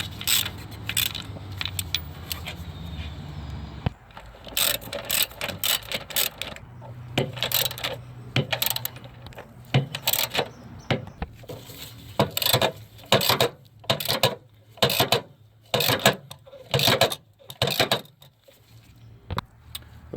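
Wrench ratcheting and clicking as engine mount bolts on a 2013–2016 Dodge Dart are snugged down, a series of sharp metallic bursts close up, with a low rumble early on.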